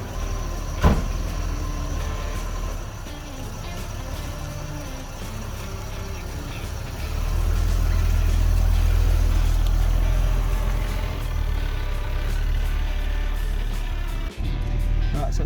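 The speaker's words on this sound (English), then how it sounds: "Right, so it's sitting here idling." A Holden VK Commodore Berlina engine, revived from a barn, idles steadily at about 800 RPM with a low, even rumble that swells slightly louder partway through, with no talking.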